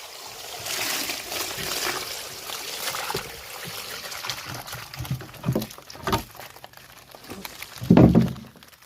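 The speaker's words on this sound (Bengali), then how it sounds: "এখন আমি জলটা ঢেলে দিচ্ছি" Water poured out of a container holding live koi fish caught from a pond, a close trickling and splashing run with scattered patters and a louder splash near the end, no talking.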